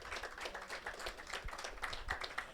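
Light, scattered clapping from a small audience at a cybersecurity event, quiet and somewhat distant, with irregular hand claps continuing throughout.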